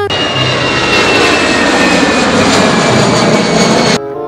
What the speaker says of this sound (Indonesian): aku menemukan tumpukan pesawat terbang